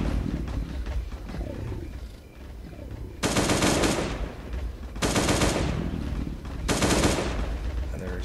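Automatic gunfire aimed at zombies in the mobile game Last Day on Earth rattles out in three loud sustained bursts, separated by quieter stretches of game ambience.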